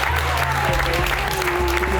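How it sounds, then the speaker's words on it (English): A studio crowd at a Hell's Kitchen UK cooking contest keeps up steady clapping under a speaking voice, dense and continuous for the whole short stretch. "Big applause in the room."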